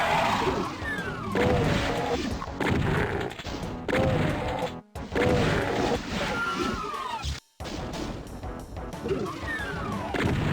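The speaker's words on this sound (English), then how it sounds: "Now we pull out the regular shotgun as before." Shotgun blasts in the video game Doom during a PS5 run, sharp repeated booms amid dense, busy game noise with creature sounds and music, loud and continuous, with a voice talking over parts of it.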